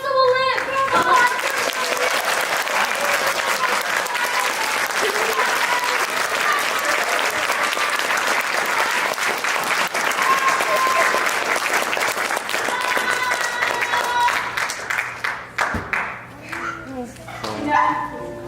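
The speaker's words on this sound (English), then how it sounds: "If you clap your hands hard enough, Hansel will live." At a Frenship High School theatre play, the audience claps hard in a long, dense burst of applause mixed with voices and excited yelps, and it thins out and breaks apart near the end.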